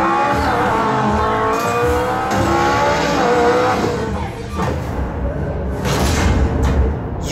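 Race cars in the game NFS Payback roar with a loud, continuous engine drone that rises and falls as they rev, with tire squeal and skidding woven through. A voice murmurs faintly beneath.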